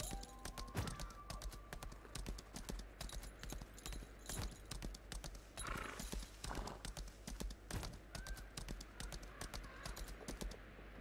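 A horse gallops in the video game Lost Ark, with quick, light rhythmic hoof clip-clops running steadily throughout at a moderate, fairly quiet level.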